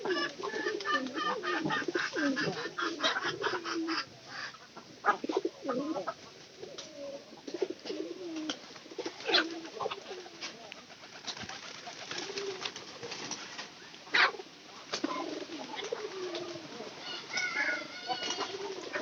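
Pigeons in a coop where the birds have started laying eggs, giving soft repeated coos and low burbling calls close by, with brief wing flutters and scattered rustling through the whole stretch.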